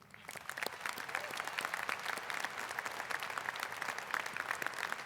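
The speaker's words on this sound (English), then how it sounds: "we thank our faculty and staff with a great round of applause for the work they do" A university convocation audience applauds faculty and staff, a dense, even round of many hands clapping, heard from a little distance and holding steady throughout.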